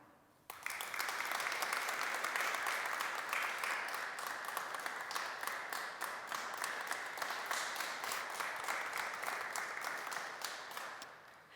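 An audience at a nursing and midwifery honours ceremony applauds a golden-badge award recipient, the clapping starting abruptly and running on as an even, sustained wash of many hands at a moderate distance.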